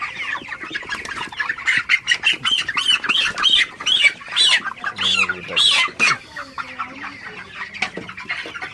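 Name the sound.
broiler chickens clucking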